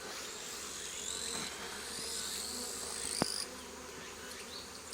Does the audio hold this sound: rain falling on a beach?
no